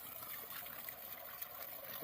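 Water gushing from the outlet of a 1200W BLDC solar pump, a steady, dense rushing splash that stays at an even level throughout with no talk.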